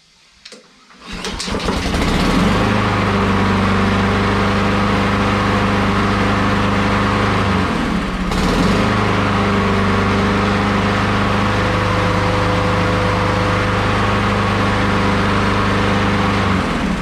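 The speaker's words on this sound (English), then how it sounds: "so we're gonna at least see if the engine runs." A Honda Quadro engine fitted with a cut carburetor starts up and runs steadily at a loud, even idle, with a brief dip in the middle before it settles again.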